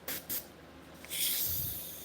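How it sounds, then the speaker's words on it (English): A leaking airbrush spraying T-shirt paint gives short sharp hissing bursts, then a longer sustained hiss, close and fairly loud with no talking. "Airbrush is leaking."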